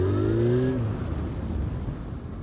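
A superbike pulling away, its engine revving up in a rising whine for under a second before fading into rumbling road noise, loud and close.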